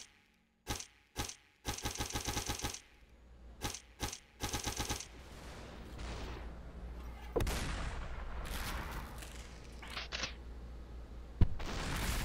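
Gunfire in the video game SuperHot: a few sharp single shots, then rapid bursts of automatic fire up close, followed by a rumbling, noisy stretch with scattered louder cracks and one final sharp hit near the end.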